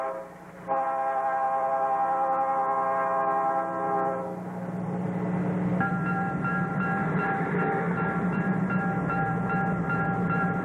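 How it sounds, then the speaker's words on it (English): Ontario Northland northbound passenger train 287, led by engines 1502 and 1520, passes on the Devonshire subdivision at Mammoth in winter. Its horn blares in long, loud chords over a steady rolling rumble that continues as it goes by. "northbound passenger train 287 passes by with engines 1502 and 1520"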